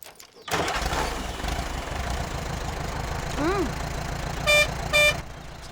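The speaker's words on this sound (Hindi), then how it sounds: "इसका क्लच खराब हो गया है, बार बार ट्रैक्टर बंद भी हो रहा है" Tractor engine with a faulty clutch, starting up and idling with a rough low rumble, followed by a rising tone and two short horn-like toots near the end.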